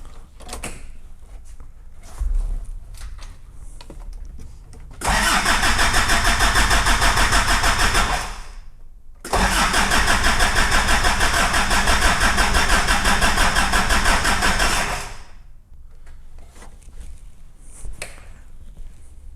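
A Daihatsu Fourtrak engine cranks over without firing on a freshly connected battery, two long bursts of loud, rhythmic starter-motor churning separated by a brief pause, with quiet workshop handling sounds before and after.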